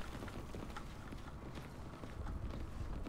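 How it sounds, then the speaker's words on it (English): Footsteps in the World War II shooter game Day of Infamy, a quiet uneven run of thuds and scuffs with faint creaks behind them, fairly soft, no talk. "I hear some footsteps to the right here"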